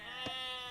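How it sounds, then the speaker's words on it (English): A single short sheep bleat from the Age of Empires II video game, brief and clear over a steady game soundtrack hum. "there's some sheep down here"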